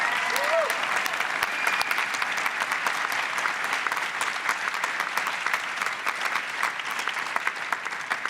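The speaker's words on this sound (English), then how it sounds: "let's give her one more round of applause." Sustained dense applause from a large audience at a national debate championship awards ceremony, steady and fairly loud throughout with no break.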